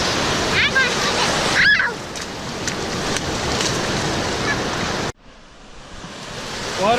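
Ocean surf at a beach on a day with cool water, a steady broadband wash of waves that cuts off abruptly partway through, with faint voices in the background.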